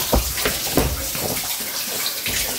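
Water splashes and gushes as hands dip into and wash in running water during a visit in Pokhara, Nepal, close uneven sloshes with a few stronger splashes.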